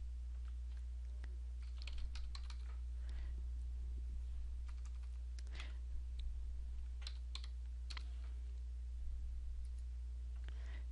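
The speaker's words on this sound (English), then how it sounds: "I'm just kind of clicking here" Mouse clicks at a computer during form building in Dreamweaver CS6, heard as sparse, light, close clicks at irregular intervals over a steady low electrical hum.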